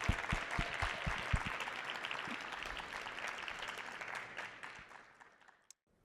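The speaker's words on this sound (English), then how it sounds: "Let's give all teams who pitched tonight a big round of applause." An audience at a university pitch competition finals gives a round of applause, dense clapping with a few sharp louder claps early on, then tapering off and fading to near silence at the end.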